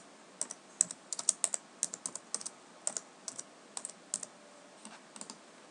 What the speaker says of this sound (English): with your cursor and the keyboard, you can type a new name